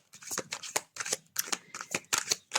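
Playing cards being shuffled for a tarot-style card reading draw, a quick series of crisp riffling bursts and soft slaps in close succession, near and fairly quiet, with no talk.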